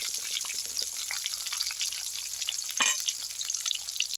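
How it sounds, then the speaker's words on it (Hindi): Chopped onion frying in a pan for a banana vegetable curry, a steady close sizzle and crackle with light spattering throughout, no voices. "वो प्याज डाल दूँगी और इसे तब तक फ्राई करूँगी जब तक कि इसका ना कलर प्याज का चेंज ना हो जाए"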